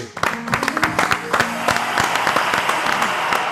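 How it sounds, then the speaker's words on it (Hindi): Studio audience at a Pakistani comedy talk show breaks into applause, with sharp individual claps standing out at first before thickening into a fuller, fairly loud round; faint voices mix underneath. "तालियां होनी चाहिए"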